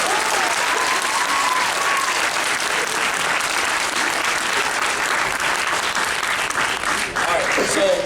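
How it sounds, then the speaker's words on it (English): Loud, sustained applause from an audience at a 2017 high school track and field signing, a dense roar of clapping lasting about eight seconds, with a few faint voices mixed in. "So can we all give a round of applause to"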